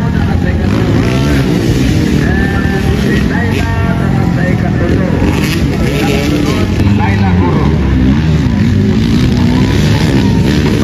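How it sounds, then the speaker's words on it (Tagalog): Small motocross motorcycle engines whining and revving continuously at race pace in a final, with excited commentary talk layered over the loud roar. "Ang liit ng motor ni Zaira mga ka-sports."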